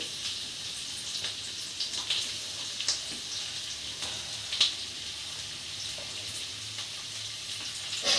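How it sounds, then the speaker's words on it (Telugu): Onion pieces and green chillies fry in hot oil, giving a steady hissing sizzle with occasional sharp pops and crackles, close and even throughout. "ఇంకా ఆయిల్ హీట్ అయిన తర్వాత ఉల్లిపాయ ముక్కలు వేసేసుకుందాము వాటితో పాటు పచ్చిమిర్చి కూడా అండి"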